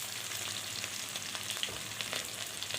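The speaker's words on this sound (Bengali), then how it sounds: "চিংড়ি মাছগুলোকে একটু নেড়ে চেড়ে তুলে নেব" Small prawns frying in oil give a quiet, continuous crackling sizzle with light stirring scrapes scattered through it, close and without talk.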